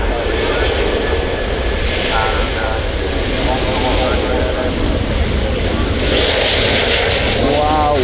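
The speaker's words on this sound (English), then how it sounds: "we're just waiting for the Virgin Airbus A330 to pop off behind these two jets" A Virgin Atlantic Airbus A330 takes off from runway 23R at Manchester Airport, its jet engines a loud, continuous roar heard from a viewing area, with people talking over it.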